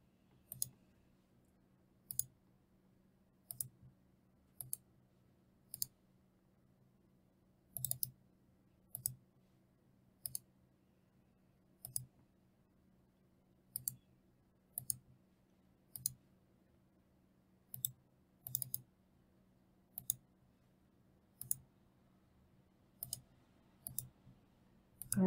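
Mouse clicks sound while working in Vectorworks design software, sharp isolated taps that come singly and in quick pairs at irregular intervals over a quiet low room hum.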